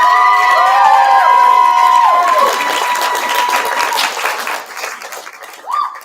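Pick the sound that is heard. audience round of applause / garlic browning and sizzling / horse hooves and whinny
audience round of applause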